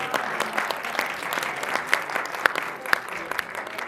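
An audience in a hall at an award ceremony and musical show claps steadily, a dense, moderately loud round of applause with a few sharper claps standing out, continuing evenly throughout.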